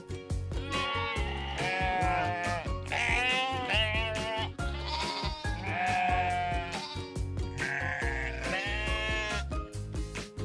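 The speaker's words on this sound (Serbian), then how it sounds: "Ovca ima meku kovrđavu vunu." Sheep bleat close and loud, several wavering calls following one another over a continuous background.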